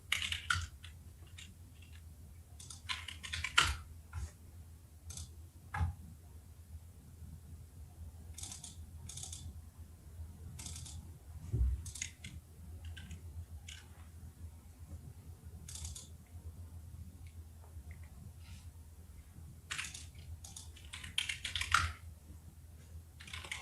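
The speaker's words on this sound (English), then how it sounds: "What is wrong with my typing today?" Computer keyboard typing at a trading desk, with scattered bursts of soft key clicks and pauses over a low steady room hum, faint and close.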